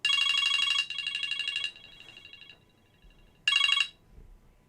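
A telephone rings out in clear electronic trilling bursts, a long ring fading and then a second short burst a few seconds later, loud against an otherwise quiet room.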